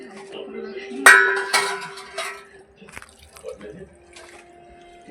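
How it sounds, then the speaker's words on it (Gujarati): Cold water splashes and drips over homemade paneer in a metal vessel, with sharp pours, clinks of dishes and trickling as it drains; a person talks quietly in the background. "હવે આમાં ઠંડુ પાણી નાખીને હવે પાણી ગાડી નાખવાનું"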